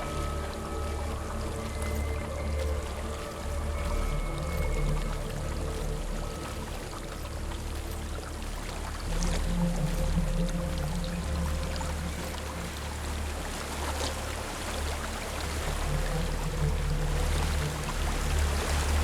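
Flowing water in the Hellblade video game, a continuous quiet pouring and rushing with low ambient rumble, steady and unbroken.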